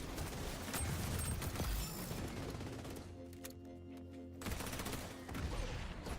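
Rapid gunfire and grenade blasts in Fallout 76 fill the scene, dense and loud at first, then dropping away mid-stretch before another burst of combat noise returns.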